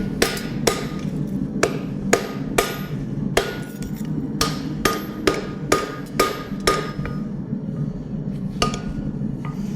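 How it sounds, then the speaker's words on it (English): Sharp metallic hammer blows ring out one after another at an uneven pace, close by, over a steady low roar like a forge, as hot steel is hammered while forging a rasp into a hawk. "Now I'm going to hammer the edge down."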